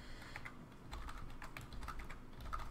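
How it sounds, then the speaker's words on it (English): Someone types random text on a computer keyboard, a fast, fairly quiet stream of irregular key clicks running steadily over low background hum with no talk. "So here's me just typing random stuff in"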